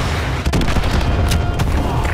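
AGM missile strike in Call of Duty: Modern Warfare 2 Campaign Remastered, a burst of heavy booming explosions and rumbling blasts with sharp cracks, loud and close.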